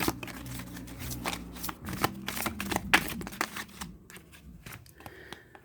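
A deck of oracle cards is shuffled close by in quiet, dense rustling and flicking bursts that thin out toward the end.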